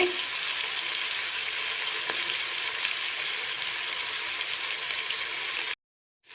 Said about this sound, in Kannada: ಮೆಂತ್ಯ ಸೊಪ್ಪು ಚೆನ್ನಾಗಿ ಫ್ರೈ ಆಗಲಿ.